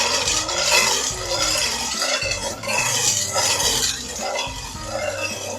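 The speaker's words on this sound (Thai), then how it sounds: "คนให้น้ำตาลละลาย" A spoon stirring sugar into a Thai honeydew melon sago dessert until it dissolves, with steady scraping, swishing and light clinks against the pot, close and continuous.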